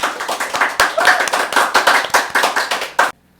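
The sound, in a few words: applause, hands clapping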